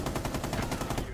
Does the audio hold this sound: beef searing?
no